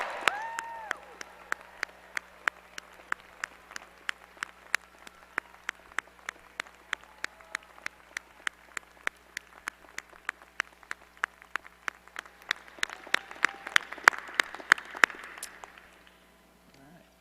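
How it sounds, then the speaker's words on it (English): Sparse, scattered hand claps from a graduation commencement audience ring out at an even pace for about fifteen seconds, fairly quiet and distant over a steady electrical hum, then fade out. "big round of applause"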